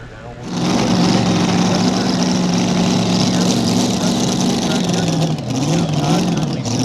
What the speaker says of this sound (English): Run here with the Little Wicked tractor.